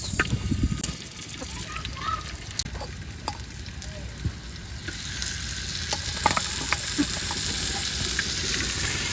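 Spiny gourd (kakrol) sizzles in hot oil in a wok, a steady loud frying hiss with occasional clicks and scrapes of stirring, close by and without speech.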